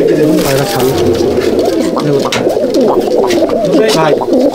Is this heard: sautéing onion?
no